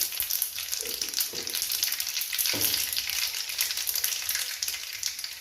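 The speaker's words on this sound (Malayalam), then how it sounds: "നെയ്യ് ചൂടായിക്കുണ്ട് കടുകാണ് ഇട്ട് കൊടുക്കുന്നേ" Steady crackling sizzle of mustard seeds in hot ghee, continuous and close, with a few soft low clinks early on and no talking.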